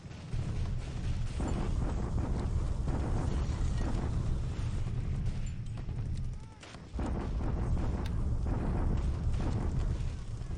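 Naval bombardment in the War in the Pacific strategy game, heard as a dense, continuous roar of explosions and heavy gunfire lasting throughout, dipping briefly before resuming at full loudness.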